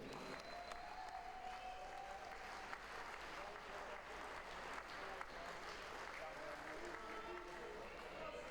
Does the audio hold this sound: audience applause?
yes